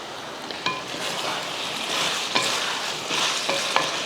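Pepper and spices dry-roast in a pan, giving a soft continuous rustle and sizzle with a few sharp scraping stirs of a spoon, close and alone without talk.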